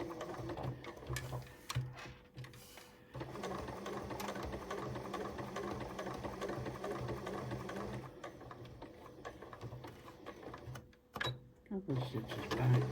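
A sewing machine stitches steadily in long continuous runs, briefly stopping and restarting as it works back and forth along the seam of a fabric Christmas tree decoration; a voice talks over the machine in places.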